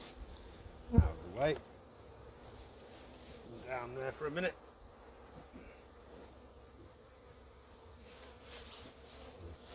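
Honeybees buzz in a continuous low drone nearby as they are moved into a hive, while a person speaks briefly over it amid some handling noises.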